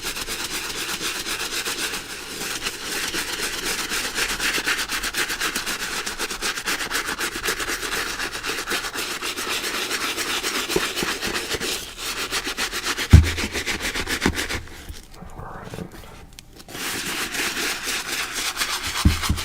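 A Jordan 3 sneaker midsole being scrubbed of grime: continuous close, rapid rubbing strokes with a brief pause near the end, no talking.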